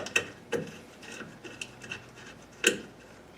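A bolt is tightened on the clutch linkage of a 1956 Chevy gasser, the bell crank and Z-bar setup, with a few close metallic clicks and ratcheting ticks spaced unevenly.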